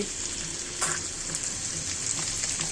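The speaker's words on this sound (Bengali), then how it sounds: "চুলায় হাঁড়িতে রুই মাছ হলুদ লবণ দিয়ে মেখে নিয়েছি তেলে দিয়ে দিয়েছি এগুলো আমি তেলে ফ্রাই করে নিব" Pieces of rui fish rubbed with turmeric and salt fry in hot oil, producing a bright, steady crackling sizzle with a brief louder spatter near the start and no talking.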